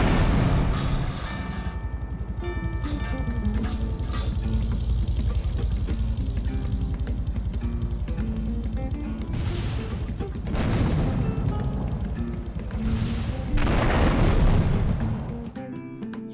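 Rocket launcher blasts in GTA III, with deep booming explosions and rumbling bursts amid game sound effects, two heavy impacts standing out late in the sequence.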